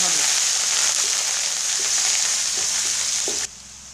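Onion paste and ginger paste frying in hot oil for chicken roast, a loud, steady sizzle with faint scraping strokes, cut off abruptly near the end.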